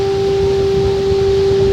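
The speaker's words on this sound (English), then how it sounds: "and a noisy foghorn to let you know where you're at." A foghorn sounds at the Bandon South Jetty in Oregon, a loud steady low tone held throughout over rumbling wind and surf noise.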